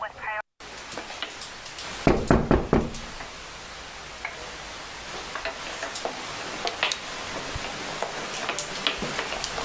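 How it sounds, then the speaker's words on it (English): Police officers knock on a house door, a quick cluster of loud raps followed by a steady background hum with faint scattered ticks. "They go and knock on the door and ask him to come outside and talk to them"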